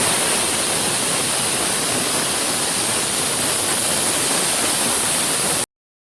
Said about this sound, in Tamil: விசில் நல்லா வரட்டும்.